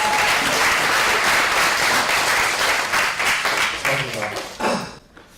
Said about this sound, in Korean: 박수 한번 크게.